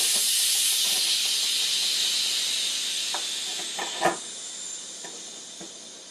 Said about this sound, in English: now we can release the pressure.